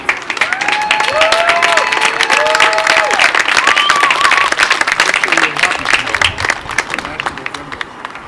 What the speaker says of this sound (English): let's give a big round of applause for all of our first responders that are here tonight